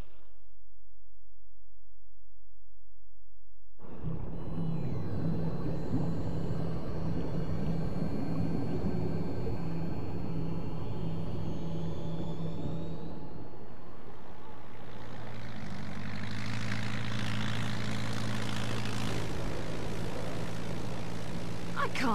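An airplane engine in a Bayonetta 2 game cutscene drones loudly after a short silence, a broad sustained roar with shifting tones that swells and thickens toward the end.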